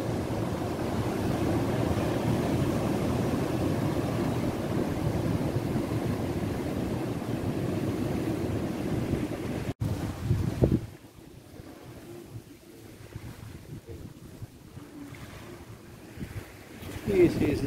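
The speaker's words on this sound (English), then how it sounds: "Big waves, huh?" Broad roar of big ocean waves breaking at a beach on a windy day, loud and close with heavy wind rumble on the microphone, dropping away abruptly partway through to a quieter wash of surf.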